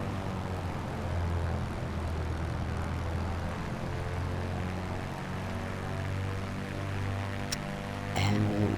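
A light aircraft taxis toward the end of the runway in Microsoft Flight Simulator 2024. Its engine holds a steady, close, low drone from start to finish, with a short rise in loudness near the end.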